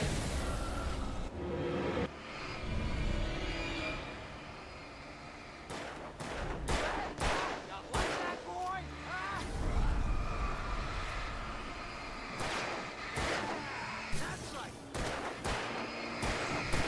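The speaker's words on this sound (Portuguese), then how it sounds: "É 6 tiros, ele acerta um." Gunfire in the video game Alan Wake Remastered: loud, sharp shots, some in quick volleys and some spaced apart, over a busy game soundscape.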